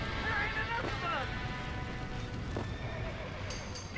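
A horse in the video game Red Dead Redemption lets out a loud whinny near the start, followed by clip-clopping hooves, with people talking over it.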